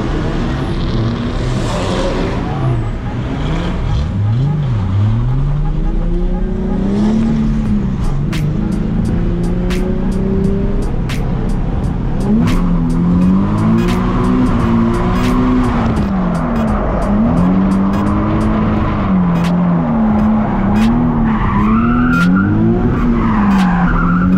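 A drift car at Vibes Drift 2023 running on a wet track, its engine revving and wailing up and down loudly and close while tires skid and squeal, continuous throughout without talking.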